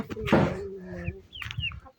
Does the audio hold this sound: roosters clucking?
yes